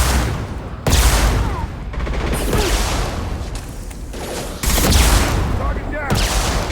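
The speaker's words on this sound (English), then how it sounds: "He was just shooting rockets, hoping I'd poke my head out" An enemy in Mass Effect 2 fires rockets, sending sharp booming blasts between crackling combat noise, with the biggest impacts landing roughly four seconds apart.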